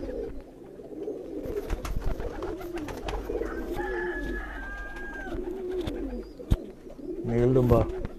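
Low, murmuring coos from loft pigeons run steadily beneath a person talking nearby, with a thin whistling tone drifting through and a fuller rolling coo rising near the end.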